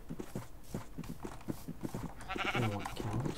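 Sheep bleating in Minecraft, a short run of blocky game bleats with rhythmic clip-clop-like steps and a louder, wavering bleat near the end, close and clear with no talking.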